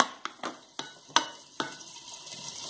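Garlic and onion drop into a hot pan with chicken thighs, giving a soft sizzle broken by several sharp clanks and scrapes of a utensil stirring against the pan.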